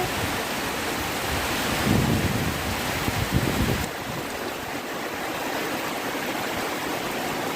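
Heavy rain pours outside in a dense, steady roar, louder at first and then slightly softer and more even, with no voices.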